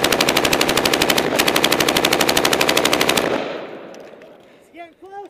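US forces firing M240B / M249 machine guns at Taliban positions: one sustained rapid burst of close, loud automatic fire for about three seconds, then a fading echo and a couple of brief voices.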